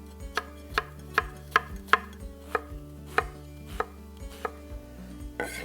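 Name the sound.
knife chopping white and red onion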